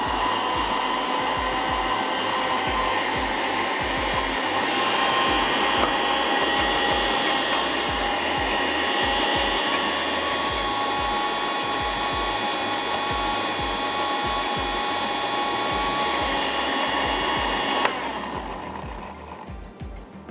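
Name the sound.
blender grinding green herbs with water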